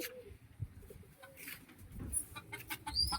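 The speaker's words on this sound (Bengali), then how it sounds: "কবুতর হাঁস মুরগি ওদেরকে খাওয়াইতে আসছি" Chickens clucking on a rooftop alongside pigeons and ducks, soft intermittent clucks and coos at close to moderate distance, no talk.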